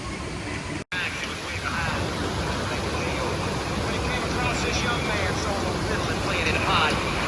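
Waterfall rushing at the top of the falls at Devil's Hopyard in Connecticut, a steady broadband roar that fills the whole stretch, near and loud, broken only by a brief dropout early on.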